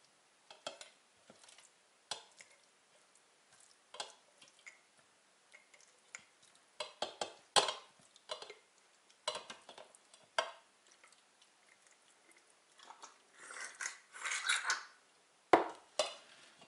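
Herring pieces packed by hand into half-litre glass jars, with sparse, quiet clinks, taps and soft wet knocks scattered irregularly against near silence.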